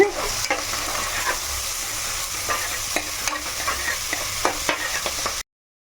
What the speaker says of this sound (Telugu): ఇప్పుడు ఉల్లిపాయలు వేగుతున్నాయి